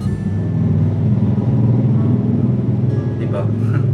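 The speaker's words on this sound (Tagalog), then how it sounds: "Ang ingay ng sasakyan na dumaan." A car driving past outside makes a fairly loud low rumble that swells and then fades toward the end, while voices speak faintly over it.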